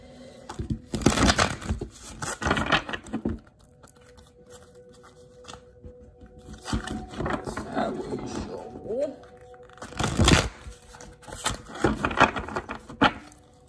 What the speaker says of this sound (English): I'm going to shuffle the cards 3 times here.